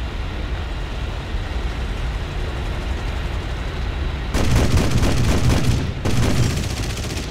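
Yak-9T aircraft cannon firing in War Thunder, with loud sustained bursts that cut over steady engine drone, a short pause, then another burst.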